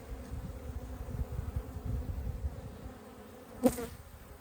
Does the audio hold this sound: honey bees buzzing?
yes